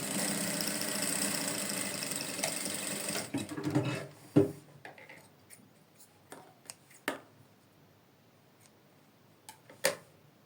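A sewing machine stitches down a trouser pocket, its motor running in a steady loud burst for about four seconds, followed by quieter scattered ticks and short bursts as the fabric is handled.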